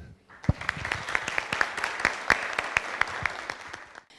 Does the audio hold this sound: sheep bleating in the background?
no